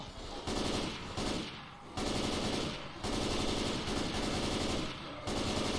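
Rapid M16 rifle bursts in the Left 4 Dead 2 Dark Carnival finale, several short loud volleys separated by brief pauses, with dense gunfire filling most of the stretch.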